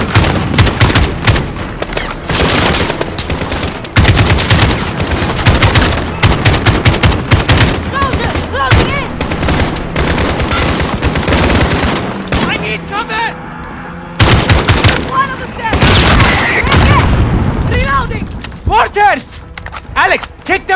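Enemy gunfire in the Call of Duty: Modern Warfare video game crackles in loud, dense automatic bursts with booming impacts, a short lull, then more shooting, under shouting voices.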